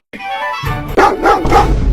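A pet dog kept at home barks several times in quick succession, close and loud, with short sharp yaps and a brief whine at the start.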